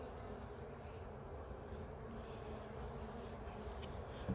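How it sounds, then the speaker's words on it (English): Bees crawl on the comb of a Tanzanian top-bar hive, giving a faint, continuous buzzing hum that stays close and steady without pause. "Oh, we got some bees on it."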